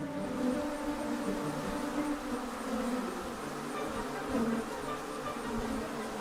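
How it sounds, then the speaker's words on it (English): Dense swarm of honey bees buzzing around an open hive in the Hollywood Hills, a steady layered drone close by with no pauses and no voices. "These bees are all the buzz in Hollywood."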